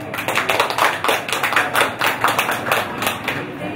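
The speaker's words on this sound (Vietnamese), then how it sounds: "một tràng pháo tay thật nồng nhiệt" Warm, dense applause from wedding guests at a Vietnamese bride-fetching ceremony, many hands clapping continuously and loudly throughout, a steady rippling wash with faint voices mixed in.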